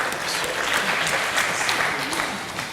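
Steady applause from an audience at a presentation, a dense wash of clapping filling the whole moment at moderate loudness without pause.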